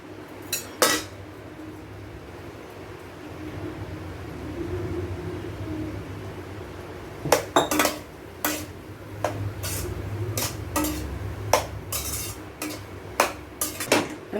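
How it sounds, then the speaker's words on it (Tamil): Cooked biryani rice is tipped into a pot of mint paste, with sharp metal spoon-on-pot clanks and scraping in quick bursts, louder and denser in the second half, no talking. "இப்போ வந்து நம்ம வடித்து வச்சுருக்கிற பிரியாணி அரிசியை சேர்த்துக்கலாம்"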